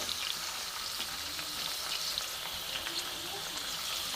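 Pieces of pointed gourd and pumpkin fry in a wok with a steady, close, crackling sizzle that holds at an even level throughout.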